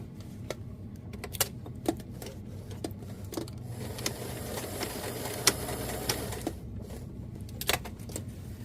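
A sewing machine stitching leather piping onto a winter puffer coat hums faintly and steadily, with scattered clicks and taps from handling the fabric.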